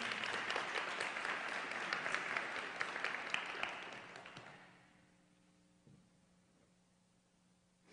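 Applause from a church congregation during a Christmas service, a dense patter of many hands for about four seconds that fades out, leaving a quiet room with a faint hum and a soft thump.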